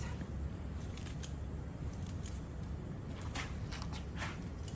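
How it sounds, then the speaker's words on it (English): Scissors snip at plants in a hanging basket, a few quick, light clicking cuts scattered over soft background noise. "anybody that's sticking up a little bit, I can give it a quick little trim as well"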